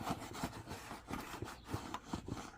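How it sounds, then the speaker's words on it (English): Wax being rubbed firmly onto a canvas bag, a close, quiet scraping stroke repeated in a steady back-and-forth rhythm with no talking. "you just want to rub it all on your bag"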